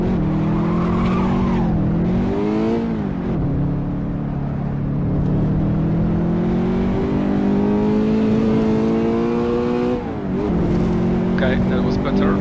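A race car engine with an H-shifter gearbox in the racing game Assetto Corsa drones loud and steady, its pitch rising and dipping through gear changes, with faint tire noise and no talk over it.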